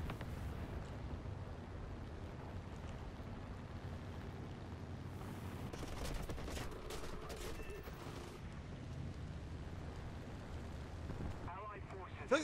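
Aircraft cannon and machine guns firing from a Beaufighter in a flight combat video game, a dense continuous rattle of rapid bursts with explosions layered over engine and wind noise, with a brief talking voice near the end.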